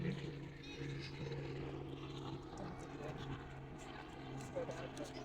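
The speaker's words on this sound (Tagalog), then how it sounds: "Yung helicopter, oh, panay-ikot." A helicopter circles overhead above a botanical garden, its steady rotor drone humming continuously at moderate distance while people talk nearby.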